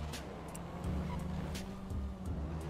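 A car in the GTA RP video game drives off on its own, its engine and road noise droning steadily with brief swells in a close, continuous pass.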